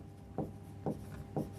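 Chalk or marker writing on a board during a lecture, three short evenly spaced strokes about half a second apart, quiet and close with no speech.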